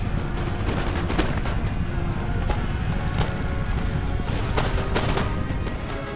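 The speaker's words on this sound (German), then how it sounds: "Ach genau, Kanonen haben wir auch noch." Cannon and musket fire in the strategy game Empire: Total War, a dense continuous battle roar with repeated booming volleys and cracking shots layered over each other, loud and unbroken.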